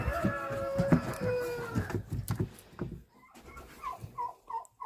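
A red turkey hen sits on goose eggs and gives short, close clucking and gobbling calls in irregular bursts, with quieter gaps between them.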